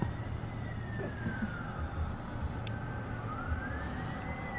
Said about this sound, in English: But there's sirens everywhere all of a sudden.